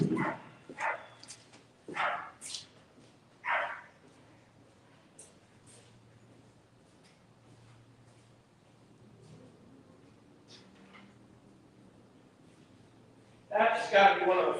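A dog barks several times nearby in short sharp bursts, then goes quiet before a final loud cluster at the end, with a person speaking over parts of it.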